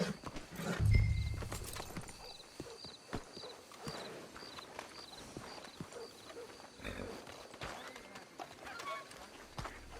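Horses clop along at a walk with a loud snorting whinny near the start in Red Dead Redemption 2, hooves continuing steadily under game ambience and scattered clicks.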